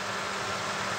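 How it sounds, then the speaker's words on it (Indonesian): A running car engine fitted with an open air filter gives a steady, even hiss over a low idling rumble, constant and close throughout. "kondisi mesin saat ini sedang menyala dan dia lebih ada bunyi mendesis"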